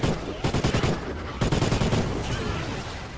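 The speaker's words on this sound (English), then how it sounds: "I heard a gunshot." Rapid bursts of automatic gunfire rattle through a combat video game set in a battle to defend a launch site, dense overlapping volleys with a heavier cluster midway, no voices on top.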